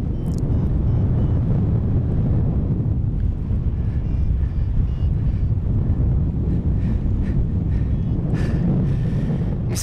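Steady, loud wind rushes and buffets continuously while paragliding, a dense low roar with no voices.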